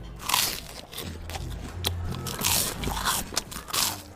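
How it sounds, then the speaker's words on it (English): Close, loud crunching of a crunchy snack, with repeated bites and chewing crackles in an irregular rhythm and no talking. "But he could barely hear himself think over her crunching."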